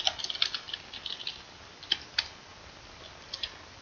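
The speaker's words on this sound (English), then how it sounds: "I'm sorry if you can hear my typing, I know it's really loud." A loud computer keyboard clacks in irregular bursts of sharp key taps, close and clear, with short pauses between flurries and no voice over it.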